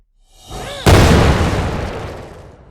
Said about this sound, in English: That explosion might have been a little loud, sorry about that.